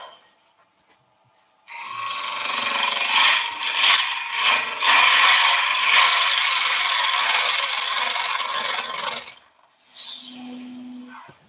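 A 6 mm (1/4 inch) gouge on a wood lathe cuts through solid Ecopoxy resin on the base of a twig bowl, making a loud, sustained scraping hiss for about eight seconds before stopping, then a brief hum.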